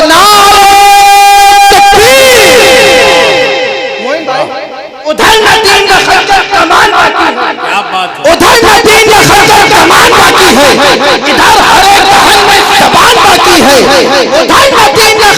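Loud crowd roaring the Nara-e-Takbeer response in unison at a naat gathering, surging chants filling the space in repeated bursts, voices layered dense and continuous throughout.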